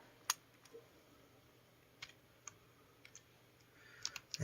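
Isolated key presses on a computer keyboard during a PC restart, a few sharp, faint clicks spaced irregularly over quiet room noise, bunching up toward the end.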